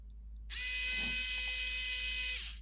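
A VeroLith E3 smart electric screwdriver spins a T20 Torx bit with a steady high-pitched motor whine, starting abruptly after a quiet moment and running close up for about two seconds before stopping.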